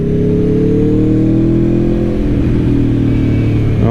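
A 2021 Aprilia Tuono V4 Factory motorcycle engine revs hard up close, its loud harmonic whine climbing steadily and then shifting pitch as the throttle changes, with no speech over it.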